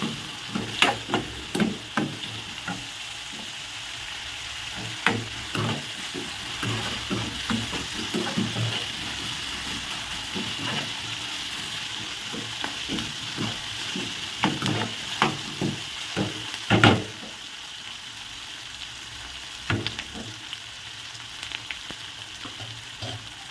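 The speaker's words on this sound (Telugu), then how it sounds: "ఇందులో అయితే పచ్చిమిర్చి కరివేపాకు ఉల్లిపాయలు అయితే వేసుకోవాలి ఇలా ఇవైతే మంచిగా అయితే వేయించుకోవాలి" Green chillies, curry leaves and onions frying in oil, a soft continuous sizzle broken by frequent sharp clacks and scrapes of a spoon stirring against the pan, close up and without voices.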